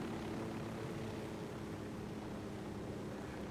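A helicopter flies in the video game Ghost Recon Wildlands, giving a continuous low rotor and engine rumble at moderate, steady loudness with no talk.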